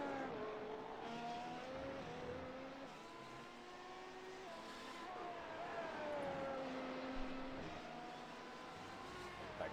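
F1 race cars at Hockenheimring in a racing video game, high engines whining and shifting pitch as they rise and fall through gears, heard at a steady, fairly quiet level under race commentary.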